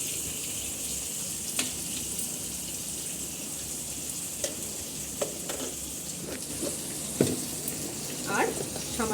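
Onions frying with salt in a pan while mutton kosha is being prepared, a steady close sizzle broken by scattered spatula scrapes and small pops, with no voices.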